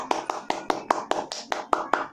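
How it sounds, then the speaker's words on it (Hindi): Hand clapping, about ten even claps in quick steady rhythm over two seconds, close and moderately loud, with nothing else around them. "मैं यहाँ तालियां बजाना चाहूंगा।"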